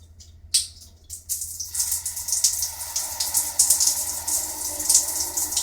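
A Lorenzetti Top Jet electric shower switches on at its minimum setting, a brief click and hiss giving way to a steady close rush of running water that stays loud and even.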